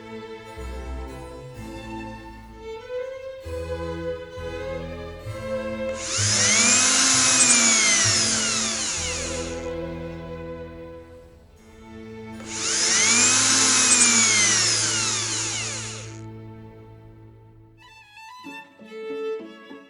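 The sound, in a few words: power tool grinding the corners of an outdoor installation kit part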